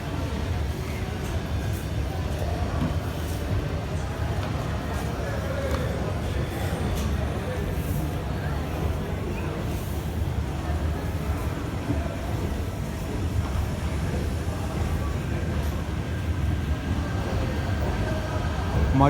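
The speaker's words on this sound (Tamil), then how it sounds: "இப்போ நம்ம பார்க்குறது Madgaon Coimbatore எக்ஸ்பிரஸோட departure from Kannur railway ஸ்டேஷனுங்க" The Madgaon–Coimbatore Express departs Kannur railway station, making a continuous, loud, close rolling rumble of wheels and carriages that holds steady for nearly twenty seconds, with faint rattles and clacks over it and no voices.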